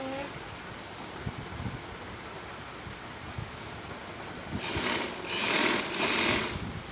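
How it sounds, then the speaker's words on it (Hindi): A sewing machine stitches the side slits of a kurti, a steady close whirr that grows louder and more pulsing toward the end, with no voices. "चाकों की सिलाई लगा रहे हैं।"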